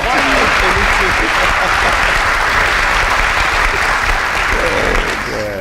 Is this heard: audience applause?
yes